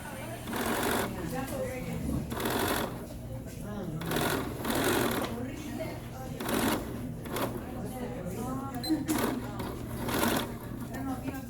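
A sewing machine backstitches the end of a shirt cuff, running in steady bursts of rapid needle clatter with brief pauses, close and clear, while a person talks over it.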